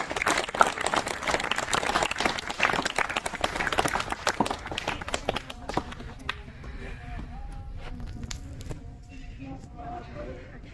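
Audience applause after a Hindi school play about Shaheed Udham Singh at a school in Haryana, a dense, loud burst of clapping that gradually thins and fades, with faint musical tones emerging near the end.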